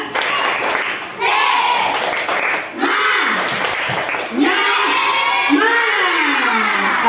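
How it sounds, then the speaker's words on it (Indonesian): Schoolchildren in a classroom perform a rhythmic tepuk semangat clapping chant, their claps and shouted chanting coming in patterned bursts. The group voices are loud and close, with a short pause partway through. "Jadi mari kita tepuk semangat dulu"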